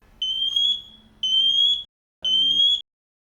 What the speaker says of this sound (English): please push the test button for an extended time until all detectors activate.